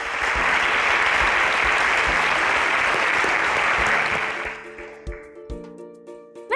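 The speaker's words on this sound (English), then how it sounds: "A round of applause for our sponsors." An audience on an Interswitch SPAK quiz show applauds its sponsors with loud, dense clapping for about four seconds, then it thins into scattered claps with faint tonal studio sounds.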